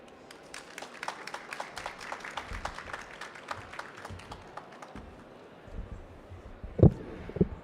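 A conference audience at a Québec-Korea AI gathering gives steady, fairly distant applause after a speech, which fades out over several seconds before a few louder thumps near the end.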